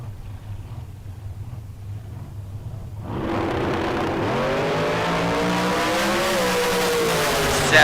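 Dragsters at a bracket race, including the Orange Flame Dragster and the Race Tech Dragster, launching off the starting line: after a low idle, a sudden loud engine roar bursts in and climbs as the cars pull away.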